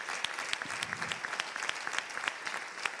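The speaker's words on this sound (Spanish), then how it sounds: "quiero pedir en primer lugar un aplauso para vosotros, los militantes y las militantes de Podemos" Steady applause from the audience at Podemos' fifth citizens' assembly in Valencia, a dense wash of clapping with sharp individual claps popping out, holding at an even level throughout.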